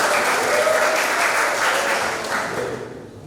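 A classroom group claps at a teacher's request during a lesson: a burst of dense, close applause that holds steady and then tapers off toward the end.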